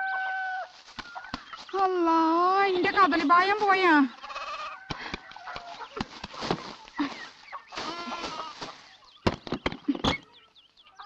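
A hen clucks in a rural home, a few short rising calls near the start and scattered clucks later, mixed in with people talking loudly.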